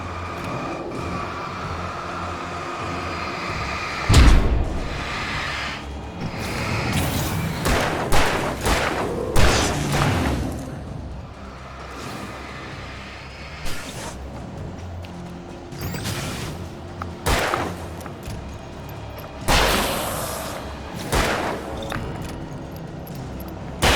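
Gunfire in Alan Wake Remastered: a scattered series of sharp, loud shots, some single and some in quick pairs, bursting over a murky low rumble of ambient noise.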